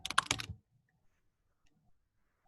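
Brief burst of rapid keystrokes on a computer keyboard while entering a username on a sign-up form, a half-second of close clicking followed by near silence.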